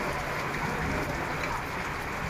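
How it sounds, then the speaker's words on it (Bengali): Rain falling steadily in Dhaka, a dense even hiss of drops on surfaces, close and continuous with no clear voices. "অনেকক্ষণ ধরে বৃষ্টি হচ্ছে।"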